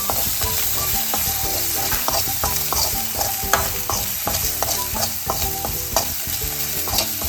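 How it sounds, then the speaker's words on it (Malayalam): Hibiscus flowers being stirred into a sizzling stir-fry in a pan, with steady frying hiss and repeated rhythmic scrapes and knocks of a spoon against the pan, close and continuous. "ഇനി നമുക്ക് നന്നായിട്ടത് ഇളക്കി യോജിപ്പിക്കാം."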